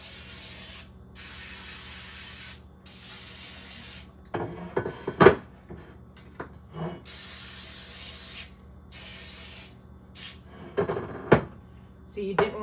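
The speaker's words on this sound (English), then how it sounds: "And we're going to take this and we're going to spray it." Several bursts of cooking spray hiss steadily into a baking pan, then handling knocks and clatter follow, with another short spray near the end.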